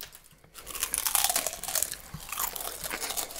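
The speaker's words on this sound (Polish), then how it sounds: "Dlaczego chipsy chrupią?" Crisp potato chips are bitten and chewed up close, a steady run of loud crunches with faint crinkling, and no one speaks.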